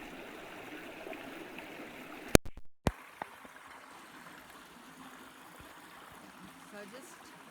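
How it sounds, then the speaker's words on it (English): A flowing stream murmurs steadily outdoors in nature, a soft continuous trickle and gurgle, briefly interrupted by a few sharp handling knocks before the water sound resumes. "I want you to just focus listening to the water."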